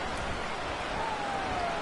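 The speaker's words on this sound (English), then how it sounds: "The rain set to continue as we are underway in the second half." Steady rain hiss from a football video game broadcast during the second half of a Commanders at Broncos match, a dense continuous wash of drops with a faint tone gliding underneath.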